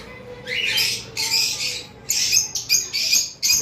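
Lovebirds on a farm give repeated sharp, loud squawks in close bursts, one call after another with short gaps between them.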